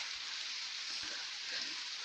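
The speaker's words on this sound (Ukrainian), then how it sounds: "Дощ сьогодні такий, знаєте, короткочасний." Brief rain shower in a forest, a steady, even patter of raindrops hissing continuously, moderately close, with no voices.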